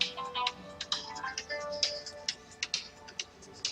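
Quick, bright electronic ringtone tones repeat in a steady pulsing pattern inside a Guild Wars 2 game scene, a phone call chiming close and clear with no talking.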